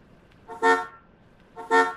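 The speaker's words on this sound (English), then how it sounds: "Anytime you press the OK, you're going to get a horn honk" A Ford Mustang instrument cluster gives two short electronic car-horn honks when its OK button is pressed on a bench. The tones are clear and close, about a second apart, against a quiet background with no talking.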